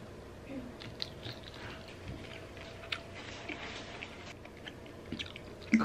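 Chewing chicken apple sausage up close, soft wet bites and squishes repeating through a quiet eating session, with a sharper crunch near the end.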